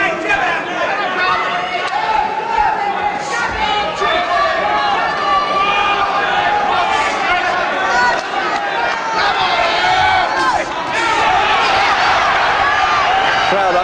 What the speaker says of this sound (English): Crowd absolutely loving this here.